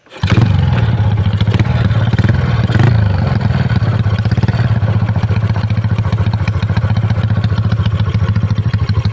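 A motorcycle engine starts abruptly, then idles loud and close with a steady low chugging rumble and a mechanical ticking rattle, a brief blip of revs early before it settles.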